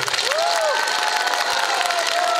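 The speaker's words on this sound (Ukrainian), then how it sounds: "Привітаємо її оплесками!" A crowd at a rally in Chernihiv cheers and claps continuously, with shouts rising over steady applause throughout.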